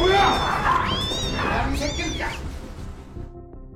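A cat meows in a zombie film scene, with a loud drawn-out cry followed by shorter wavering calls that fade over a dense background.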